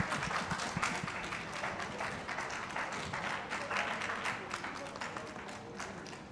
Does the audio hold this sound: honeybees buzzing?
no